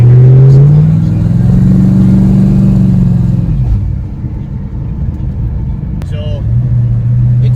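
An LS-swapped 2003 Nissan 350Z with a big turbo and 1100 horsepower is driven on the road, its engine booming loudly as it revs and then settles into a lower rumble, with rattles, and a person speaks over it.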